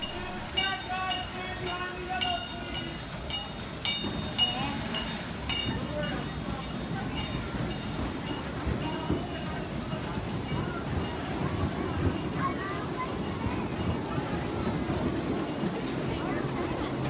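Train number 106 rumbles steadily pulling into the main station at Sonoma Traintown, California, with a few whistle-like tones early on, while a voice narrates over the noise throughout.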